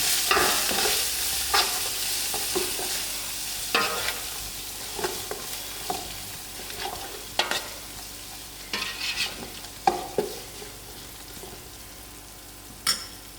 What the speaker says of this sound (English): Now I will add in my masala to cooking all together. And stir it and lower my heat.